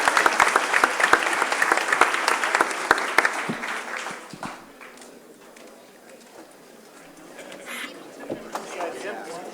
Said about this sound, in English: how about a huge round of applause for our moderator?